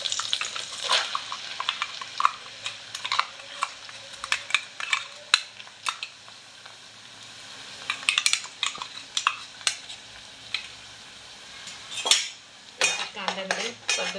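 Metal spoon stirring and scraping a pan of fish with onions and ginger-garlic paste, Konkani-style curry: repeated clinks and scrapes in irregular bursts, fairly close, with a faint frying hiss underneath and no talking.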